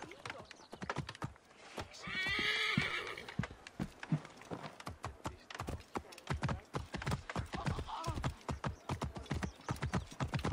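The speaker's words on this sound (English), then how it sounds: "The horse is not running as fast as it normally does." Horse in the video game Assassin's Creed Origins trotting through a city, steady clip-clop of hooves throughout with a loud neigh near the start.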